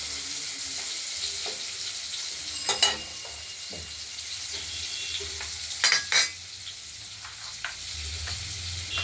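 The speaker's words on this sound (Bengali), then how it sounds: "আলুটা ভাজা হচ্ছে" Potatoes frying in a pan with turmeric for a cauliflower curry: a steady close sizzle runs throughout, broken by a few sharp clinks and scrapes of stirring.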